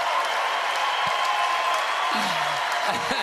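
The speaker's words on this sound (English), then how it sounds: "The crowd not really showing an allegiance here, just cheering for good pickleball." A pickleball crowd watching a professional women's match applauds and cheers in a steady wash, with a commentator talking over it.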